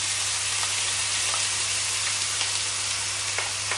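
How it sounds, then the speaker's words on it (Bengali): An onion, garlic and turmeric paste fries in hot oil for a Bangladeshi fish bhuna, giving a steady, dense hiss with a low hum beneath and a few faint ticks, close and without talk. "এবারে গরম তেলের মধ্যে আমি অ্যাড করে দিব পেঁয়াজ, রসুন এবং হলুদ"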